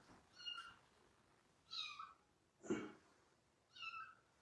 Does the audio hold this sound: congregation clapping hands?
no